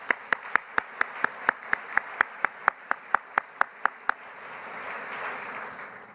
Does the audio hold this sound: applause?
yes